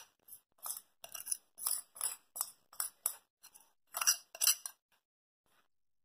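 Roasted soya chaap and mushroom being mixed in a big bowl, heard as a quick series of close, crisp clinks and scrapes of a spoon against the bowl, steady and rhythmic before a brief pause.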